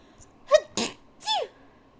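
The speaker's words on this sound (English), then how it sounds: "Wow, I've been sneezing a lot today." Two or three sharp, close sneezes in quick succession from one person, each a short explosive burst, with near silence around them.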